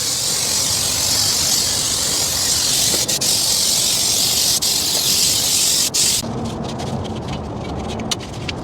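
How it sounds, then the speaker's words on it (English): A can of brake cleaner sprays a loud, steady hiss onto drum brake parts during a wheel cylinder job, with brief interruptions before the spray stops near the end and leaves quieter handling noises. "get some brake clean."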